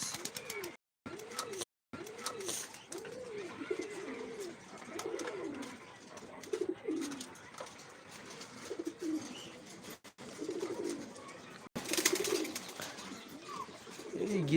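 Freshly released pigeons coo in a village on an afternoon, a string of repeated soft rolling calls at close range, with brief gaps and a burst of rustling noise near the end.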